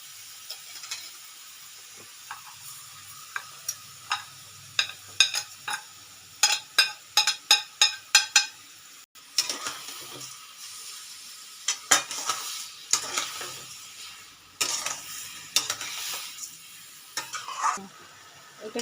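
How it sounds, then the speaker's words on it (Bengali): Grated carrots and sugar for gajar halwa are stirred and fried in a pan, a spoon scraping in a quick run of rhythmic strokes over a constant hiss and sizzle, with pan clinks throughout; no talking. "এটাকে আমি ভালো করে এবার ভাজবো"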